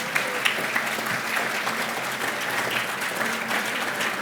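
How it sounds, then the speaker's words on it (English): A round of applause fills the room at an apprenticeship awards ceremony, steady, dense clapping from a large audience with faint voices mixed beneath it. "can we say a big round of applause to our 2 headline sponsors tonight"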